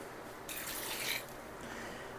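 A whole cup of water poured onto four cups of strawberries for jam, a brief bright splashing burst lasting under a second, close by and without talk.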